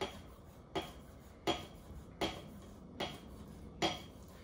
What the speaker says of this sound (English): I'm just gonna make little strips out of it.